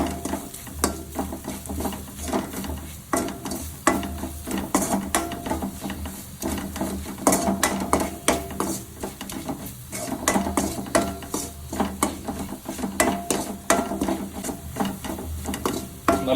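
Meat masala roasting in a pan with chicken masala while a utensil stirs and scrapes it repeatedly, giving steady clattering scrapes over a faint sizzle, close and moderately loud for the whole stretch.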